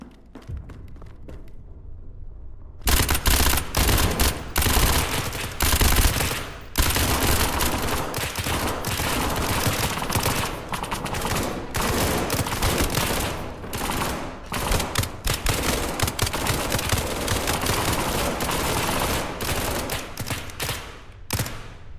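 Guards in the video game SCP 5k fire at the player in loud, near-continuous automatic bursts that start after a brief quiet moment and keep going with only short gaps, with no talk.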